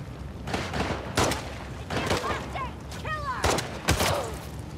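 Enemy gunfire in The Last of Us Part II: several sharp bursts of shots at a loose, irregular pace, moderately close, with game effects between them.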